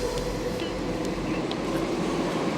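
Constant low rumble of a running train, a dense steady roar with no pauses across the whole short stretch.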